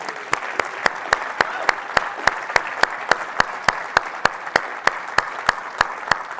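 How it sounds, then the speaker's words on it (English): Audience applause after a conference talk on Microsoft Project, steady clapping from a crowd with a strong, regular single-clap beat standing out above the general patter, continuing throughout. "how about a round of applause for Project for the Web?"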